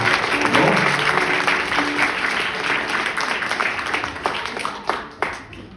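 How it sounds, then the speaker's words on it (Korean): Wedding guests applaud after the bride and groom bow to each other, with sustained, dense clapping from a room full of people that gradually thins out toward a few final claps. "다시 한 번더 큰 박수 부탁드리겠습니다"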